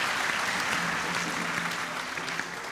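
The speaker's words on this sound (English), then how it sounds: "Others want to clap, others are shy. Clap if you feel like." Congregation at an Easter Sunday Mass breaking into sustained, moderately distant applause that fills the space with dense, even clapping.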